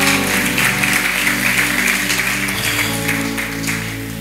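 A church congregation applauds and cheers the Lord during a French-language sermon, a dense, steady wash of clapping with sustained musical tones beneath it, loud and continuous throughout.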